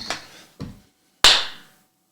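A few single, sharp hand claps, close and alone in a quiet room: two softer claps a half-second apart, then a louder, crisp clap with a short ringing decay.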